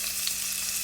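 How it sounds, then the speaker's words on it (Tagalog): Garlic and onion sauté in hot oil for an adobo, giving a steady, hissing sizzle that stays even and close for under a second. "Sa mainit na mantika, gisa lang natin tong bawang at saka sibuyas."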